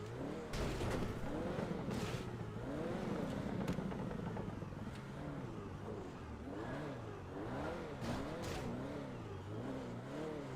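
A rear-wheel drive car's engine revs up and down repeatedly in the GTA Online racing game, a loud, continuous rising and falling whine that holds steady throughout without speech.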